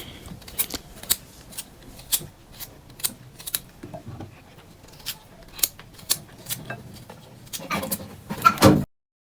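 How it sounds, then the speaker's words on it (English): A knife cuts rinsed coconut into tiny bits, making sharp irregular clicks and snips close up, faster toward the end, with a quiet room behind. "I'm going to be cutting it in tiny bits, just like this."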